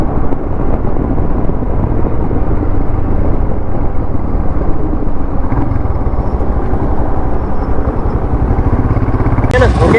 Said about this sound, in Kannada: ಈಗ ನಮ್ಮ ಬೈಕ್ ನ ರೈಡ್ ಮಾಡ್ತಾ ಇರೋದು